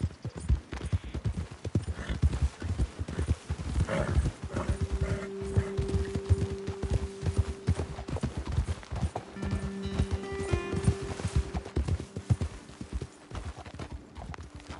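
Horse hooves clip-clop in Red Dead Redemption 2 as riders move along a trail, a close, rhythmic run of hoofbeats that slows toward the end, with a horse snorting and whinnying partway through.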